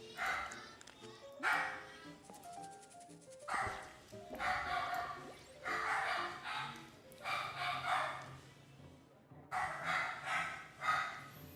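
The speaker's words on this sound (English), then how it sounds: "I can never really get why those dogs bark for no reason." Dogs bark repeatedly in clustered bursts over about ten seconds, some yips and whimpers mixed in, set against a game's ambient music bed at moderate volume.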